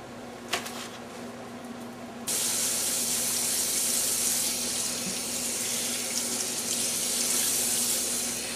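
Cool tap water runs steadily into a sink while raw pork ribs are rinsed, a loud, close continuous rush that starts abruptly after a short quieter stretch with a few handling knocks.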